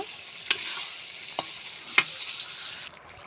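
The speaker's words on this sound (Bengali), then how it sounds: "এবার আমি আর একটু কষিয়ে নিব" Chicken, lentils and potatoes sautéing in a pan for khichuri, a steady soft sizzle broken by three sharp stirring scrapes, fairly quiet and close, with no talking.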